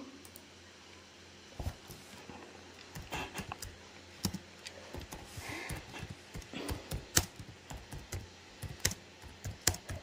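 Someone typing on a computer keyboard: quiet, irregular clusters of sharp key clicks and taps, close by, with no talking.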